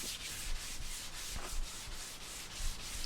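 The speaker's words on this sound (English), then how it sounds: "sand the whole board down and get it smooth" Sandpaper rubbed by hand over a chambered wooden surfboard, a steady back-and-forth scratching rasp in even strokes about three per second, close and moderately quiet.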